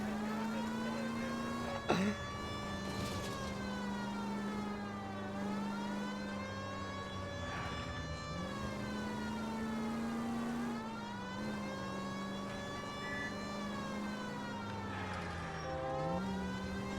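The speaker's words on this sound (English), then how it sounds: "My siren was on and you hit me." A police car siren wails continuously and loudly, its rising and falling tone sweeping in slow cycles over a steady engine and road rumble, close by throughout.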